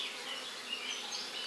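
Honeybees in an apiary hive opened for inspection during a heatwave, with the queen laying and frames full of brood, make a steady, dense buzzing that fills the whole moment without any voices.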